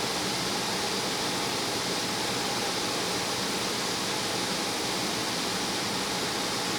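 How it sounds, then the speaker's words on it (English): A steady, loud, unbroken hiss of spraying water fills the bay of a Vector automatic car wash in California, Missouri, during the spot-free rinse, with no voices. "Yeah, I bet this is our spot-free rinse."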